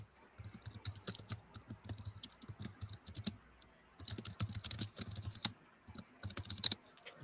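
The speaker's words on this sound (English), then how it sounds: "I predict you're typing something about tasting a rainbow." Rapid typing on a computer keyboard, close and clear, with dense bursts of clicking keystrokes broken by brief pauses, no talking.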